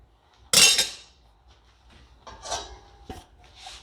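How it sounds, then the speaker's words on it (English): A metal lid set down onto a cooking pot of chicken and cabbage gives one sharp, loud clank with a brief ringing tail, followed by softer kitchen clinks and small knocks. "I'm gonna put my lid just like that."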